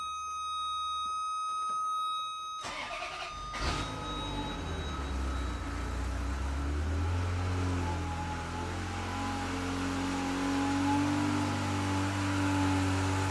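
A Ferrari F355's engine fires up after a few electronic warning beeps, then settles into a steady, rumbling idle as it warms up, close by and continuous with no one speaking.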